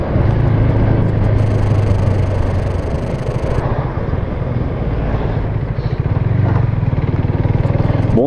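A Husqvarna Vitpilen 401 motorcycle engine drones steadily while being ridden. The low rumble is continuous and moderately loud, and wind noise runs through it.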